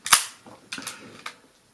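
A Konica Pop compact camera fires its shutter with one sharp, loud click, followed by fainter mechanical clicks and whirs as the mechanism resets.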